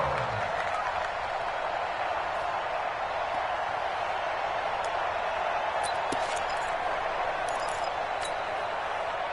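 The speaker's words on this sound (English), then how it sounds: "the crowd getting into it as we come up on a big third down" A stadium crowd in a PS4 American football game keeps up a steady, dense roar throughout, evenly loud with faint scattered clinks and no clear talking.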